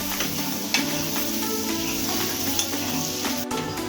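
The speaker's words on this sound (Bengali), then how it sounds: "রসুন কুচিটা দিয়ে আমি হালকা ভেজে নেবো" Chopped garlic fries lightly in butter, giving a steady, close sizzle that runs without a break, with a soft tonal hum in the background.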